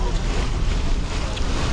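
A ferry crosses open sea near the Spanish coast around La Manga, heard as a steady broadband roar of wind buffeting the microphone with water and engine rumble beneath, continuous and loud.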